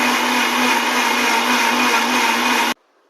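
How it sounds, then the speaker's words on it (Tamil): A kitchen mixer grinder runs at full speed, grinding coconut and masala for a South Indian crab curry, a loud steady motor whine with broadband roar that cuts off abruptly near the end. "இது எல்லாமே போட்டு நம்ம மிக்சியில அரைச்சி எடுத்துக்க போறோம்."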